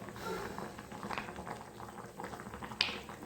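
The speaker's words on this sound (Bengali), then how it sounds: "মটনের তরকারি হচ্ছে" Mutton curry boiling in a pot, a quiet bubbling and popping with small liquid plops and an occasional sharper tap, close and steady.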